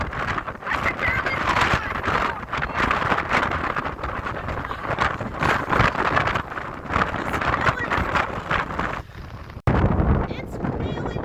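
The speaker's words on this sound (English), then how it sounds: "It's really windy." Strong wind buffets a microphone outdoors at Split Rock Lighthouse: a loud, continuous rushing roar with gusty swells and a brief drop near the end, voices faintly mixed in.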